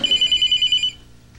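A telephone bell ringing in a rapid trill for about a second, loud and close, then stopping abruptly.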